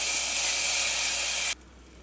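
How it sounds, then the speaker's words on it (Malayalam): A hot tempering with asafoetida is poured into a buttermilk curry with colocasia, giving a loud, close, steady sizzling hiss that cuts off abruptly after about a second and a half and leaves only faint background. "ഇനി ഇതെല്ലാം കൂടെ നമുക്ക് ഈ ഒരു കറിയിലേക്ക് ഒഴിച്ചു കൊടുക്കാം"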